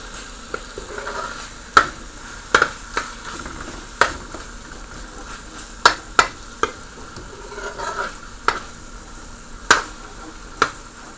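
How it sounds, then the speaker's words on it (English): A spoon taps and scrapes against a pan of simmering beef liver curry, giving sharp, irregular clicks over a soft bubbling hiss, close and moderately loud, with no talking. "A quick stir and it's all good."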